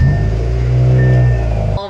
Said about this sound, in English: and we start the car